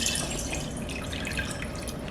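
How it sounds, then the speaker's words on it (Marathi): Clean water poured over rice that soaked overnight, a steady splashing trickle that runs throughout at close range with no voices. "आणि स्वच्छ पाणी घालायचं."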